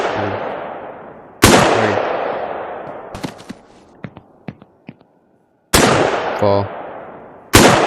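Gunshots in Beyond Sandbox, with a handful of sharp, loud single shots spaced a second or more apart, each ringing into a decaying echo, and a few softer clicks and impacts between. A voice counts aloud.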